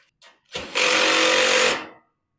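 A power driver whirs in one short burst, briefly starting then running steadily for about a second as screws are threaded into the side bracket of a Traeger Woodridge Pro pellet grill.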